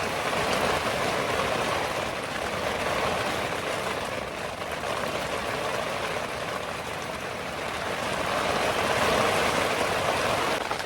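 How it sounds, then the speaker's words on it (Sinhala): Heavy rain pours on a mountain hike near a tent in a constant, dense roar that swells slightly at times, with no breaks or voices. "මේ වෙන්දි නම් හොඳටම වහිනවා."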